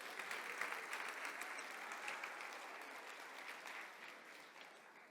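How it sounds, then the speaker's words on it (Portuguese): Church congregation applauding, a dense, even burst of many hands clapping at moderate distance that holds steadily and then fades slightly toward the end, with no voices over it. "Pode aplaudir, é bom."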